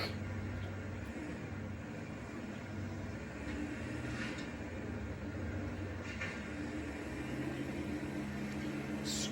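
Low rumbling machinery of a small skid steer loader scraping and digging thick dirt with a tiny bucket, a continuous engine drone with shifting tones and occasional faint scraping clatters.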